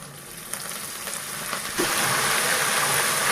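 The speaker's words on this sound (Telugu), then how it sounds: "పోపు అయితే వేగిపోయింది. ఇందులో కరివేపాకు కూడా వేసుకుందాం" Curry leaves drop into hot tempering oil, and a soft background crackle jumps into a loud, hissing sizzle that keeps going steadily, close by and without speech.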